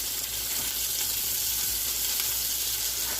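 Onions and garlic sizzle steadily in a hot pot for a split pea chowder with smoked meat, a continuous close frying hiss with no pauses and no talk over it.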